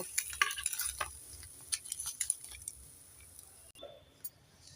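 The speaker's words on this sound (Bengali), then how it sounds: "এখানে আমি চার পিস মাছটাকে একই সাথে পুড়িয়ে নিচ্ছি" Four pieces of katla fish sear together in a hot pan, giving a soft, uneven sizzle with light scraping and clinks of a utensil, quieter toward the end.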